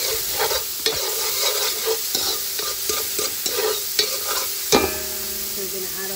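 Pig tail fries in a hot pan with a crackling sizzle, punctuated by several sharp scraping stirs of a utensil against the pan, close and loud, with no talk.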